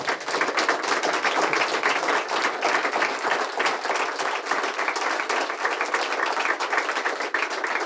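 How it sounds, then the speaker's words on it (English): A live audience gives a huge round of applause for two guests at a REDX Talks event, a dense, fairly loud spatter of clapping sustained evenly for several seconds. "could we give them a huge round of applause?"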